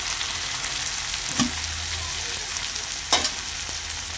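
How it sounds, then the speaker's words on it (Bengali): Chickpea ghugni with potatoes and chopped coriander leaves sizzles steadily in a pan, with a couple of sharp spatula scrapes as it is stirred. "আর একটু ভালো করে নাড়াচাড়া করে নেব।"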